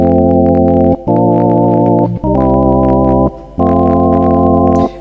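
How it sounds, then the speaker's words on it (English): Organ keyboard with drawbars and vibrato effect, sustained harmonic-rich chords held in several long blocks with brief gaps between them, loud and close, no talking. "use early electric circuitry to literally produce a kind of vibrato effect"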